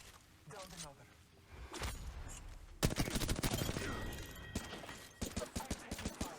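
Gunfire in the video game Apex Legends: bursts of rapid automatic shots and sharp single cracks, loud and close, with game effects and a voice talking in between.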